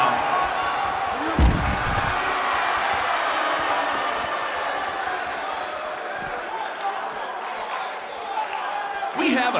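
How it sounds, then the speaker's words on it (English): Video game arena crowd in WWE 2K19, a sold-out, record-setting wrestling audience roaring steadily throughout, with a heavy slam-like thud early on and occasional bursts over the dense, continuous crowd noise. "We have a sold-out, record-setting crowd here for BCW tonight."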